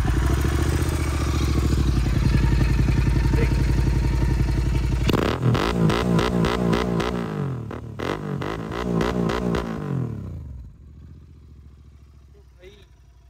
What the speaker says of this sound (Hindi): ये जो रेड रोस्टर वाले एग्जॉस्ट है, तो उनका आपको एक बार मैं साउंड सुनाता हूँ।